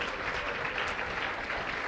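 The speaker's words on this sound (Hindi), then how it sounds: "जोरदार तालियों से इन सर का स्वागत होना चाहिए।" An audience applauds loudly to welcome a guest speaker at a lecture event, continuous dense clapping throughout with no voices over it.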